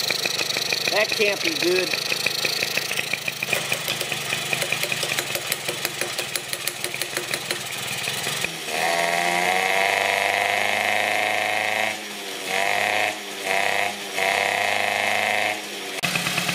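A Suzuki FA50 moped's small four-stroke engine runs after long storage, a close, loud idle that drops out and restarts several times in the second half, with someone talking over it.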